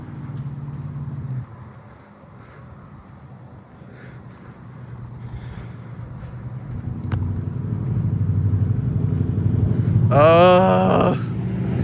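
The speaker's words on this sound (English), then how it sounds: "Oh, here comes a loud motor." A loud motor vehicle passes along a neighbourhood street: a low rumble swells over several seconds and peaks with a brief rising engine whine before easing slightly.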